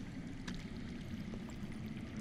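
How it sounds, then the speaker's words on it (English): Low, steady rush of water flowing somewhere underground in the Game of Thrones video game, a continuous muffled wash with faint trickles and no voices. "I hear water. From underground."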